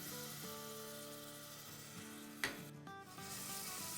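Garlic paste sizzling in hot oil in a pan, a faint steady frying hiss with a sharp clatter partway through, alone with no talk.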